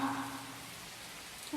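Rain falling in a soft, steady hiss, faint and continuous with no other sounds over it.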